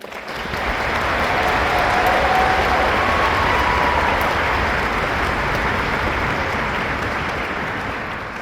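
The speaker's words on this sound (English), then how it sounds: "I ask for a round of applause for the folks behind the curtain" An opera house audience applauds the backstage crew with a dense, steady roar of many hands clapping that swells in quickly and holds for about eight seconds, then eases slightly at the end.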